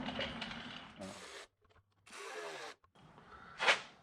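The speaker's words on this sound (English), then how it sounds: "I'm gonna check the torque specs on that, just to make sure that I do have it tight enough." Torque wrench clicking and ratcheting on a water pump bolt of a Detroit diesel engine during a rebuild, short mechanical bursts separated by pauses, ending in a sharper click, close up with brief faint speech.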